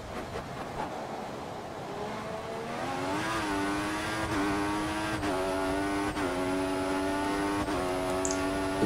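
A Formula 1 car in F1 2014, with its rear end stepping out under throttle, revs loudly and climbs through rising, whining gear pulls, with a brief shift between each, all close and continuous with no voices.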